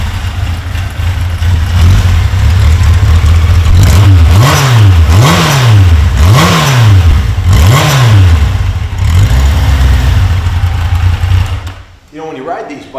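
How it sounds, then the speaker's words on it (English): A 1983 Yamaha Seca XJ900RK motorcycle with stock exhaust revs repeatedly, the engine note rising and falling in four or five smooth, loud sweeps over a steady idle, then cutting off. "listen to the rear exhaust note on it"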